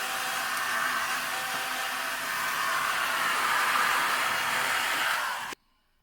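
Heat gun blasting hot air to cook a burger, a loud steady roaring hiss of airflow that runs continuously for several seconds, then cuts off abruptly into near silence.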